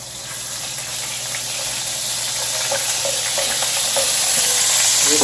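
Pancetta frying in a pan: a steady bright sizzle that slowly swells louder, scattered with small crackles and pops, with no voices.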